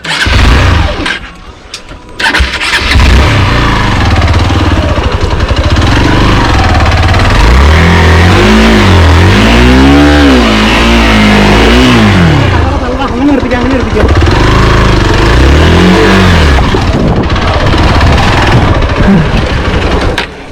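A Hero XPulse 200 BS6 motorcycle revs hard up an off-road climb at Palkulamedu, Idukki, its engine rising and falling in loud, strained surges close by while people talk over it.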